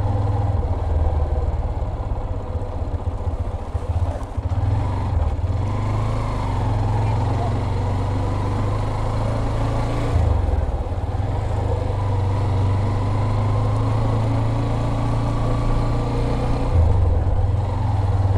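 A motorcycle engine idling near the Jhalong Bindu view point by the Bhutan border, a steady low throbbing hum that runs unbroken under background noise and faint voices.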